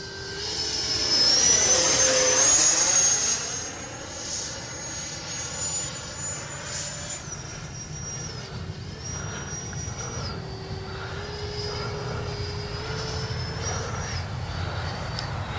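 An FMS Rafale 80mm EDF radio-controlled jet whines overhead, its ducted fan rising and falling as it passes close then eases to a steadier, softer drone with shifting pitch; no voices.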